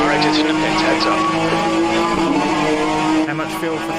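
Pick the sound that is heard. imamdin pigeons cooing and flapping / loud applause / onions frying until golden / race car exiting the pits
race car exiting the pits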